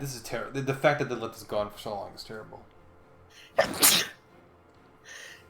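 A player gives one sharp, loud sneeze partway through, during a Hearts of Iron IV session. Someone speaks casually just before it.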